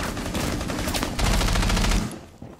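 Rapid AK-74 automatic fire from a Rainbow Six Siege match rattles out in a loud, dense burst of shots for about two seconds, then breaks off into quieter echoing pops.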